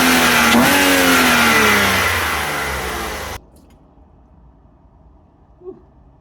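Car engine with about 400,000 km on it, revved after an engine oil flush, a loud rising and falling rev that fades and cuts off abruptly, leaving near silence.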